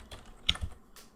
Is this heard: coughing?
no